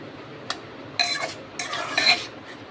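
A spoon scrapes and clinks around a cooking pot as yogurt and spices are stirred together: a few short bursts of stirring with light metallic chinks, fairly close and quiet, with no talking.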